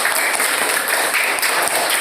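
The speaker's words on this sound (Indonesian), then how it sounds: "Silakan untuk beri tepuk tangan juga." Students in a classroom give a brief round of brisk, close clapping that lasts about two seconds.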